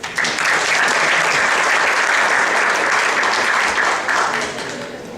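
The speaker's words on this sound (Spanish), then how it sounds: "Por favor, un fuerte aplauso." Loud, dense audience applause at a cybersecurity conference greets a speaker introduced as an ethical hacker; sustained clapping continues evenly for several seconds, then tapers slightly at the end.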